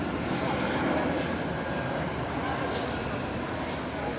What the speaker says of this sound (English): We have another American Eagle plane coming in here, this one from Wichita, Kansas,